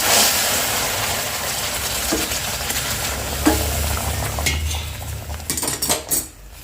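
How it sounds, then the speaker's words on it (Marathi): Boiled milk is poured into semolina frying in a hot pan, hissing and sizzling steadily, with occasional clinks of a metal spoon stirring against the pan. "हे सर्व दूध मी आता यामध्ये टाकते"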